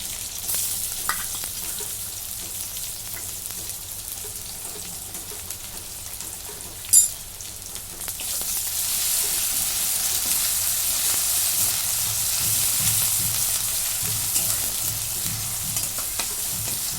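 Coconut, coriander and ginger-garlic paste fry in a pan for a green brinjal curry, giving a steady soft sizzle that swells in the second half, with one sharp clink midway.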